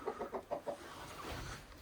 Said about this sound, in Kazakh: Тауықтардың қазіргі жағдайы осындай міне.